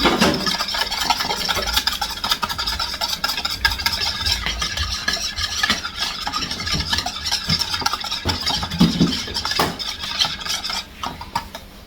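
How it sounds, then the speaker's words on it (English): Continuous quick scraping and clinking of a utensil against a bowl while whisking an egg, a steady brisk whisking rhythm up close with no talking. "So now we're just gonna mix out our egg."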